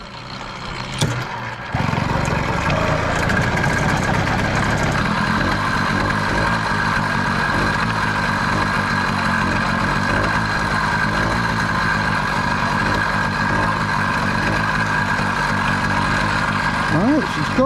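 A cold carbureted engine, just started on choke, idles with a steady, even drone close by after a brief start-up, running unchanged for more than fifteen seconds.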